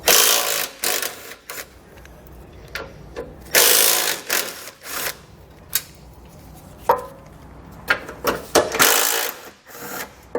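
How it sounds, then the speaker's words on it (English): Socket wrench removing 12mm bumper beam fasteners on a 2015 vehicle, heard as close, loud bursts of rapid ratcheting clicks separated by quieter pauses and small metallic handling noises. "So go ahead and grab our socket and pull those off."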